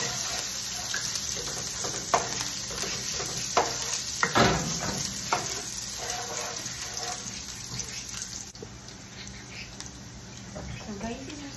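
Ham frying in a pan for omurice, with a steady hiss and crackle, scraping stirs and clatters throughout, close and moderately loud.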